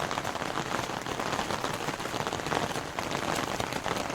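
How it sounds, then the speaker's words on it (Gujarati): Fine drizzle coming down at Junagadh's Uparkot Fort: a continuous, gentle hiss and patter of raindrops close by, steady throughout with no voices. "તમે જોઈ રહ્યા છો ઝરમર ઝરમર વરસાદ આવે છે"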